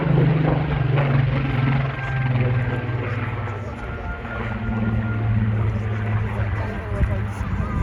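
Display aircraft making a low pass at the Wales Air Show, a steady loud droning engine roar with a changing pitch throughout, heard under a commentator's public-address talk.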